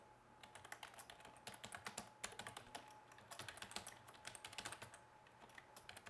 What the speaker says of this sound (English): I will type in with localhost now